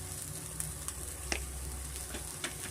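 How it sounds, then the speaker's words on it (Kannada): Green chilli, ginger and turmeric frying in a little oil, a dense close sizzle running steadily with a few faint clicks of a spoon against the pan, no voices. "ಸ್ವಲ್ಪ ಎಣ್ಣೆನಲ್ಲಿ ನಾವು ಫ್ರೈ ಮಾಡ್ಕೊಬೇಕಾಗುತ್ತೆ"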